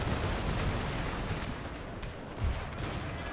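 Cannon fire in a Total War video game battle set in the Thirty Years' War, a dense continuous rumble of distant booms and crackling shots with a slightly heavier thud near the end.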